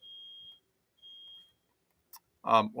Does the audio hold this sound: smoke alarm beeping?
yes